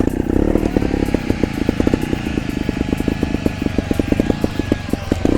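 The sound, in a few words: trial motorcycle throttle blip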